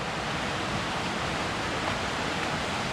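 Beaver Brook Falls roars as a steady, loud, unbroken rush of falling water, a dense wash of noise with no pauses and no voices.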